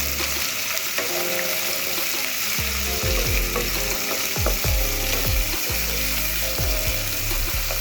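Onion and green chilli frying loudly in hot oil after panch phoron, a steady dense sizzle throughout with repeated scraping stir strokes against the pan in the second half, no talking.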